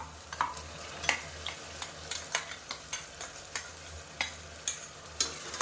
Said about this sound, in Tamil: சேர்த்துட்டு பச்சை வாசனை போகிற அளவுக்கு வதக்கி விட்டுக்கலாம்